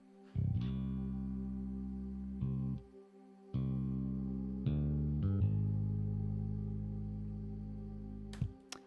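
A hip-hop beat built from a synth pad holding a root-note chord progression, with long sustained chords changing every second or two and brief gaps between them, heard alone without voices.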